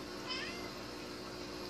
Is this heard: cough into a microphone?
no